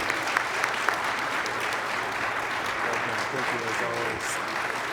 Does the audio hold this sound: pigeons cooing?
no